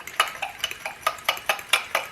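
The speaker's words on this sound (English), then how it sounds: "Be sure and get everything mixed in together really good." A utensil beats baking powder batter in a bowl, about a dozen quick, evenly spaced clinks and scrapes against the bowl in a brisk rhythm, close and clear with no talking.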